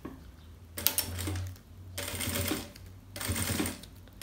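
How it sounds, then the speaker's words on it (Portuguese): A sewing machine stitches a vinyl notebook cover in three loud bursts of rapid stitching, separated by short pauses, with a low motor hum running underneath. "agora eu vou virar e vou costurar aqui a parte de cima e de baixo"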